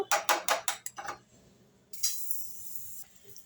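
A metal cooking pot is handled and set on a stove while making caramelized-sugar payasa: a rapid series of close metallic clanks and rattles, then a brief scraping clatter before things go quiet.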